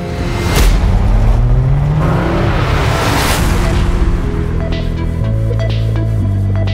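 A Renault Rafale E-Tech 4x4 hybrid SUV with 300 hp, driven in sport mode: a loud, close engine drone that rises in pitch as it accelerates, then settles into a steady throbbing hum.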